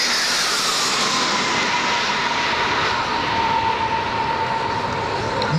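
MiG-29 fighter jets flying past, a loud, continuous roaring jet rush that stays high throughout, with a slowly falling whine riding on top.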